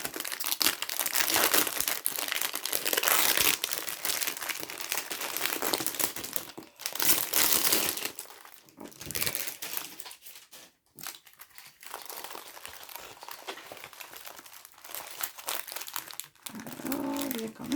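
Plastic packaging of a diamond painting kit with AB diamonds is crinkled and torn open close up, with bursts of loud crackling and rustling, brief pauses in between.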